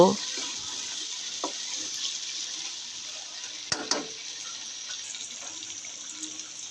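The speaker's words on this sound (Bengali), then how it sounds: "দিয়ে এবার মশলার সাথে কিছুক্ষণ মাংসগুলোকে ভেজে নেব" Chicken frying with spice paste for biryani, a constant high sizzling hiss close by, punctuated by a few clanks and stirring knocks.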